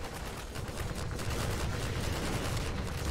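Sustained gunfire in Half-Life 2 aimed at a towering Strider, a dense, steady rumble of rapid shots and blasts that continues throughout with no voices.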